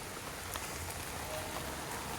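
Steady rain falls in a wooded forest setting, a soft continuous hiss of drops on surfaces with a few brighter patters, even and moderately close, with no voices.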